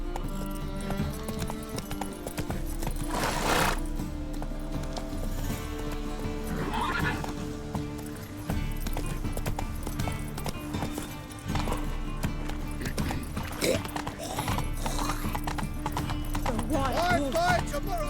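Roach the horse in the video game Witcher 3, galloping with continuous rhythmic hoofbeats and a few whinnies, all under a player's voice talking throughout.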